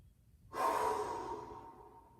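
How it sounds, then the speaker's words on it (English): One deep breath is pushed out forcefully during a mobility exercise class: a sudden, close, breathy exhale that starts sharply and fades over about a second and a half, with no speech. "We're doing 2 full breaths. We're gonna let them all out forcefully."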